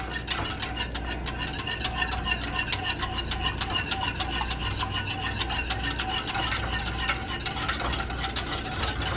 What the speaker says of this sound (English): every so often you can stop stirring just to make sure that nice froth on the top, everything is coming together great